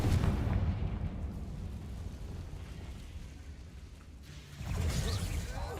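Confringo fiery explosive curse in the video game Hogwarts Legacy, heard as rumbling, booming blasts with a renewed low burst toward the end, over continuous battle noise.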